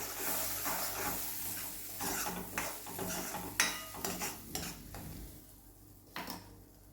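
Tomato puree being stirred into a gravy for a dried cowpea curry in a pan, a utensil scraping and clinking against the metal in irregular strokes, with a soft sizzle underneath.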